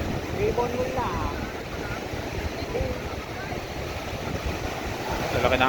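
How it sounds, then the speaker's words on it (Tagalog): Big ocean waves roll and wash near boats offshore, a continuous churning roar mixed with wind buffeting the microphone, while faint voices talk in the background. "Lalaki ng alon no"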